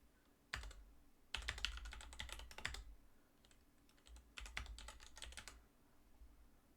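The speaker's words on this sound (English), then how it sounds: "then type in your title," Computer keyboard typing in bursts of quick, close clicking keystrokes, with short pauses between runs, in a quiet room with no talking.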